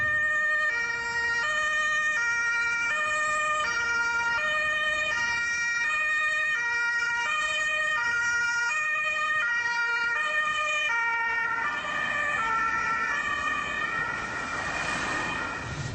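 An ambulance siren wails in a repeating two-tone pattern, loud and close, as cars pull aside for it in traffic. Near the end it shifts to a rougher, noisier tone over road noise.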